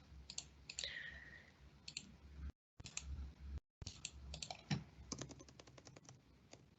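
Mouse clicks in a web application as a performance evaluation is saved, with scattered soft clicks and a rapid run of clicks toward the end, quiet and close, without speech.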